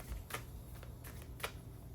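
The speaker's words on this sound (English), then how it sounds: "I'm just shuffling these cards because I want to shuffle them as good as possible" Tarot cards being shuffled by hand, a few soft papery riffle bursts spaced irregularly over a low background hum, close and quiet.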